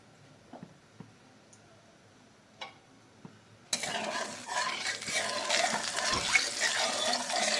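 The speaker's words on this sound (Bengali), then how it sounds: "এবার পেঁয়াজটা ভেজে নেব" A few quiet clicks and taps, then a sudden loud sizzle as onions hit hot oil in a wok and keep frying steadily.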